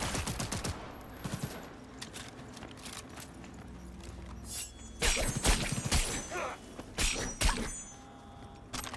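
Enemy gunfire in a video game: sharp bursts of shots crackle through a busy mix, with dense clusters of loud rapid reports in the second half.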